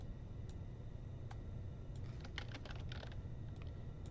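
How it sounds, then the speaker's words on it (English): Computer keyboard being typed on during coding work, faint scattered key clicks in short irregular bursts over a low background hum, with no talking. "You could type average with only left hand."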